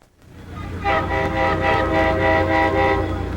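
Commuter train on trial runs at a Maryland crash scene, rolling past loud and close with a sustained rumble and a blaring horn that pulses in repeated bursts over the noise.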